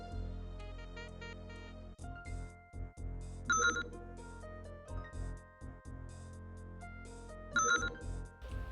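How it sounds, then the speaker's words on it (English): Vid phone ringing with an incoming message in the video game Tex Murphy: Overseer, an electronic ringtone with repeated bright tones under soft game music, fairly faint. "Sounds like I've got a message on the vid phone."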